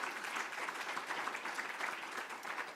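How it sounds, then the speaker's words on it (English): Audience at a university founders lecture breaking into steady, dense applause, a continuous patter of many hands clapping at moderate volume with no voices over it. "I think she deserves a round of applause."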